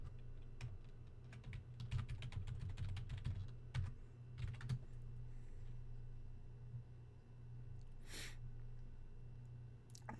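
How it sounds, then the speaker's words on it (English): Fingers tapping a computer keyboard to type a password, producing bursts of quick, close clicks followed by a pause, a few more isolated keystrokes and a brief breathy sound, over a low steady hum. "Let me put in my password here."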